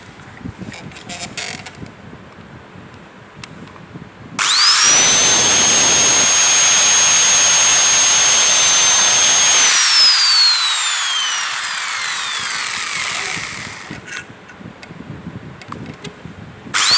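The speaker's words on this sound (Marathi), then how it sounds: "तर आपण ड्रिलिंग करू." A power drill bores holes in a galvanized iron sheet metal dust pan, spinning up to a loud steady whine for several seconds before winding down, with quieter workshop handling noises before and after.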